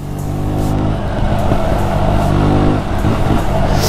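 A loud, close KTM Duke 125 motorcycle engine with an open air filter revving and roaring continuously, with a throaty, rough intake sound rising and falling slightly.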